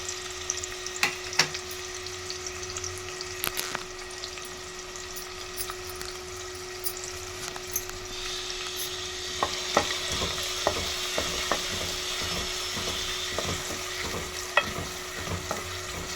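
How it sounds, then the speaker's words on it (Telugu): Onions and whole spices fry in hot oil for a chicken curry, giving a steady close sizzle with scattered stirring clicks and scrapes that grows denser and brighter in the second half, with no talking. "ఎర్రగడ్డలు అయితే బాగా వేయించుకోవాలి ఫ్రెండ్స్"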